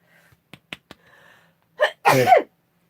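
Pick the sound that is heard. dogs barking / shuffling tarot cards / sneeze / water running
sneeze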